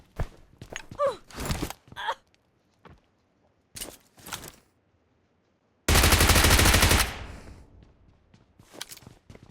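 Gunfire in the mobile battle royale BGMI during a tournament qualifier match: scattered single shots and short bursts, then a sustained loud automatic burst lasting about a second, followed by a few more sharp reports.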